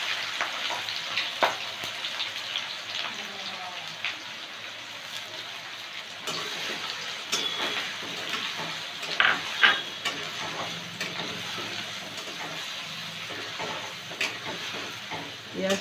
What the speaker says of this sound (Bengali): পেঁয়াজটা একটু ভেজে নেব, বেশি কড়া করে ভাজবো না